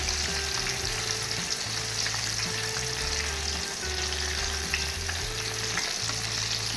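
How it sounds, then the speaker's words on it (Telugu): Mirchi bajji, battered green chillies, deep-fry in hot oil with a dense, continuous close-up sizzle and bubbling, broken by occasional light stirring clatter, with no voices. "ఇంకా రెండు వైపులుగా తెచ్చుకొని మంచిగా కాల్చుకోండి"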